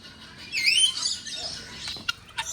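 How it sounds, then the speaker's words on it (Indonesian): Small birds chirp in short, bright bursts at fairly close range, with a few scattered clicks and thin calls afterward, on a family outing in the Puncak hills. "Wah, 2 tuh burungnya."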